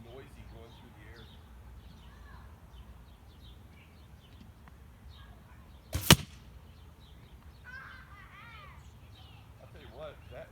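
A single arrow tipped with a 2-inch cut mechanical broadhead flies past in one brief, sharp whoosh and impact burst near the middle, set against quiet outdoor ambience with scattered birdsong.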